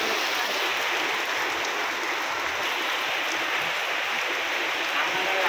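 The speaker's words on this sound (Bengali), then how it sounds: "এই যে বৃষ্টি হইতাছে" Rain falls steadily near a river, a dense, even wash of hiss and patter with no pauses, close and fairly loud.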